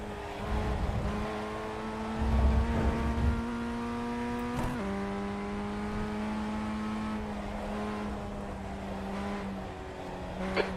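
A Formula 1600 race car engine in a racing video game drones steadily at high revs on the Winton circuit, with one sharp gear change midway and a brief low thump early on, no voices.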